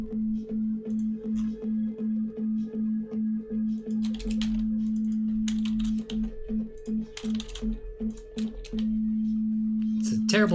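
Procedural audio generated in a Unity project: a rapid, regular train of electronic clicks over a steady tone, then a busier stretch of irregular clicks and pops, and the clean repeating pulse pattern returns near the end.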